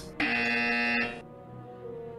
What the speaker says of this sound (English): And I already see that Felix was the first to press the buzzer